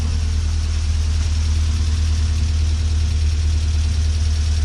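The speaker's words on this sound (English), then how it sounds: "Make sure listen to the muffler" A 2004 Honda Civic EX with newly installed headers idles, its exhaust and muffler giving a steady, low, rumbling drone that holds evenly throughout at close range.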